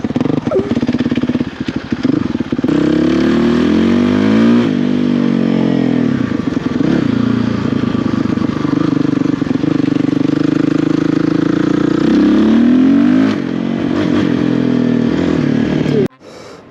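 A repaired dirt bike engine runs loud and close, revving up and down repeatedly with a raspy clattering tone before cutting out abruptly near the end.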